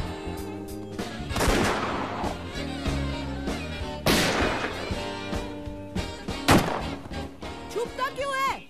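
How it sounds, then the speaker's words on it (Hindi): Several loud gunshot-like blasts boom at intervals in a Hindi film scene, each followed by ringing decay, with voices talking in between. "गोली चली क्या? गोली चली, गोली चली, गोली चली"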